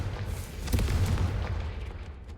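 The Confringo spell in the Hogwarts Legacy video game goes off as a single deep, booming blast with a short crackling decay.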